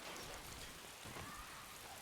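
Steady rain in a visual novel game, a continuous broadband hiss of falling drops pattering on surfaces, even and unbroken throughout with no voices.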